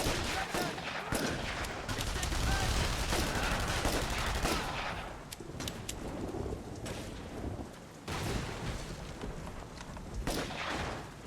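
Pistol gunfire in the video game The Saboteur pops repeatedly amid a thick, rumbling wash of background noise, sharp shots scattered across the clip with no clear talking over them.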